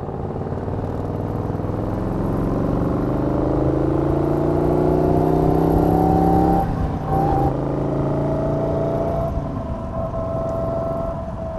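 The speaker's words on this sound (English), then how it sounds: "flat tyre understeering, scuffing itself through the corner" A Morgan 3 Wheeler's engine runs and revs steadily through a corner on a track, with a rough scuffing noise from a flat tyre understeering underneath, loud and close throughout.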